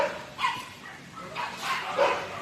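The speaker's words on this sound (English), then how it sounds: "we got a loose puppy dog" A loose puppy gives a few short, light barks and yips, fairly close and moderately loud, spaced across a couple of seconds with quiet gaps between them.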